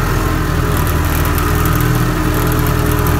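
Tractor pulling a small hay tedder with the PTO off, descending a hill in third low gear; a loud, close, steady engine drone with a low throbbing rumble and constant whir, unbroken throughout.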